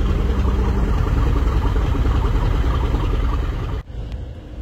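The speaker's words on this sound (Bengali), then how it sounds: "প্রথম রিভার ট্রায়াল দেখে কোনো রকম ইঞ্জিনে পুশ করা হচ্ছে না, একেবারে আস্তে ধীরে লঞ্চটি চালানো হচ্ছে" A river launch, the M Khan-7, runs its engines slowly on its first river trial near a dockyard, giving a steady, close, low rumble that drops away sharply near the end.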